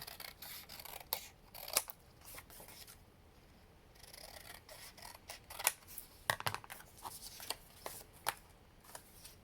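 Paper being cut with scissors while assembling a Stamperia junk journal, heard as close, quiet, irregular snips and rustles of sheets shifting and rubbing, with no talk.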